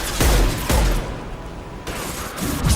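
A concussive shot goes off in the Mass Effect video game, heard as a loud, close burst of blasts and booms with a second impact near the end, without talk.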